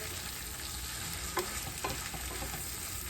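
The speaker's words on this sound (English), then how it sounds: "So you want to stir it." Fried corn with bacon sizzles steadily in a pan while it is stirred, a constant close frying hiss with a few soft stirring knocks.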